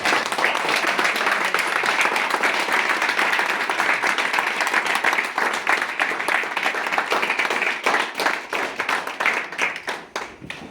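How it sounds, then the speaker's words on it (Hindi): Applause from an audience at a weekly business meeting as older guests stand to welcome new ones, dense sustained clapping that thins into separate claps near the end. "पुराने मेहमान खड़े होकर हमारे नए मेहमानों का तालियों के साथ स्वागत करेंगे"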